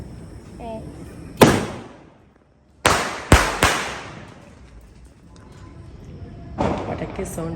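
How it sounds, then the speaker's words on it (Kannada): Firecrackers burst during a village festival: a sharp crack near the start, then a close pair of loud bangs a moment later, and a softer, longer burst near the end, with quiet gaps between them. "ಅಲ್ಲೆಲ್ಲ ಪಟಾಕಿ ಹೊಡಿತೀವಿ"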